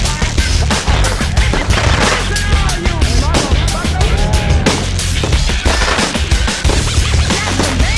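Fireworks go off in fast, crackling bursts of rapid pops close by, like a string of firecrackers, with people talking and shouting over the barrage at a nighttime gathering.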